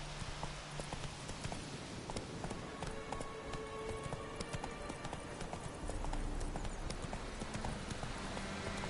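Roach the horse gallops in The Witcher 3 video game, a fast steady clip-clop of hooves over a dense wash of ambient game sound, continuous and close, a little louder near the end.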